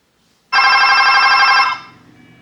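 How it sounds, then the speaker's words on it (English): A telephone line rings for an incoming fax on a fax machine, one steady electronic ring lasting about a second, loud and close, then fading out with no talk. "So the line is ringing now."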